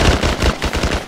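Rapid automatic gunfire in the game S.T.A.L.K.E.R. aimed at an eagle, a fast loud string of about eight close shots in steady rhythm.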